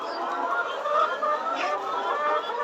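Laying hens on a poultry farm cluck and chatter together in a dense, continuous flock murmur, close and fairly even in loudness, with no speech.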